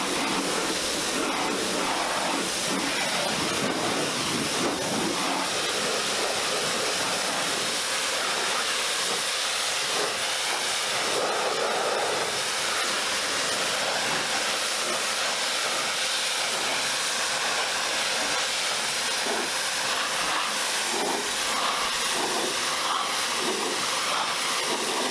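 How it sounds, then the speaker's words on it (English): Pressure washer rinsing the exterior of a JDM-import Subaru Impreza STI on a damp, mild day, a steady loud hiss of spraying water that shifts slightly in tone as the jet moves, with no talking. "the exterior was thoroughly pressure rinsed"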